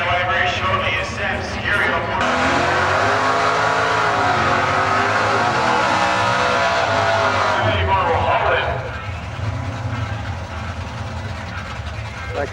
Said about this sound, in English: That Camaro's crazy, man.